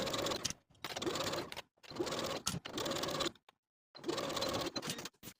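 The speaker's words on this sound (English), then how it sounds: "Then we'll sew the outer front yoke to the front bodice from one side to the center front seam with a 3/8" A sewing machine stitches the yoke seam of a blouse in short rattling bursts, several quick runs of about a second each broken by brief silences, close and fairly quiet.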